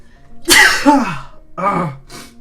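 A loud, close sneeze bursts out, followed by a second shorter sneeze and a faint breathy exhale.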